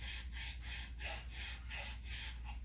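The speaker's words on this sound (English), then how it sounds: "I'm just gonna hit it with the file" A file is drawn back and forth over a part of a saw to flatten it, making a steady rhythmic rasping of about six even strokes, close and fairly quiet.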